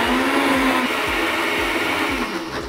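A kitchen blender grinds chilli paste with a loud, steady motor whine and rhythmic churning pulses, close and continuous throughout.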